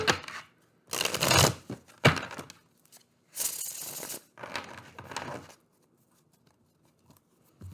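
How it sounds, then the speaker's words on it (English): Several bursts of tarot card shuffling, riffling and fanning in short runs separated by brief pauses, close by with no talking. "Give it one more shuffle."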